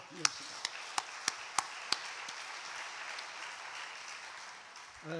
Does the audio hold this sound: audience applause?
yes